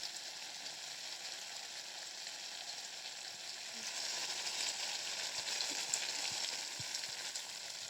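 Curry fries in oil with cumin powder, giving an even, continuous hiss of sizzling close by that grows slightly louder midway, with a few faint clinks near the end.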